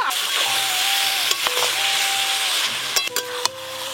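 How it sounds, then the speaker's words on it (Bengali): Spiced goat meat with turmeric frying in a pan, a soft continuous sizzle with a few quick utensil knocks toward the end, over a faint steady tone in the background. "চাপা দিয়ে দিয়ে খাসি মাংসটা বেশ ভালো করে কষে নেব।"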